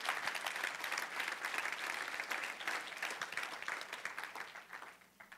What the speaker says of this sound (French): Peux-tu applaudir le Seigneur?